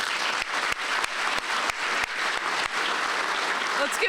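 An audience at a police department honor awards ceremony keeps up steady, moderately loud applause for the whole stretch, with a few sharper claps standing out.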